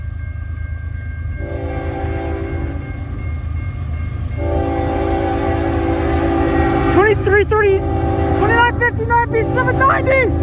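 A southbound CN freight train, train 2959 B790, rumbles past at Ladysmith. Its horn sounds in sustained, loud blasts that swell as it nears, and a voice can be heard near the end.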